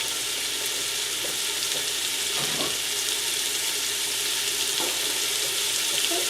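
Chicken and rice cooking in a covered pot give a steady, soft sizzle and simmering hiss, fairly close and continuous, with a couple of faint clinks of utensils.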